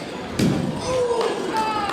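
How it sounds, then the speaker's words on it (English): A judo throw at a demonstration lands with one sharp thud as a body slams onto the mat, followed by crowd murmur and high whistling tones. "And Dana was able to throw and chase with a very little force because she was in the right place at the right time"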